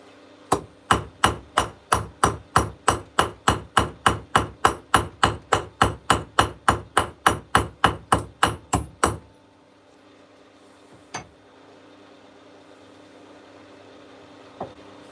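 A ball peen hammer strikes metal while shaping a coffee scoop, giving a quick, steady run of about twenty-five sharp ringing blows. The blows are close and loud, then stop. Two isolated knocks follow later over faint background hum.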